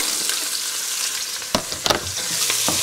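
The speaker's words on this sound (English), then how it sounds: "I'm going to saute this around. It needs a little more oil" Sweet onions sautéing in oil in a pot for a Mississippi pot roast, with loud continuous sizzling and a few clattering spoon stirs near the middle, heard close up without talk.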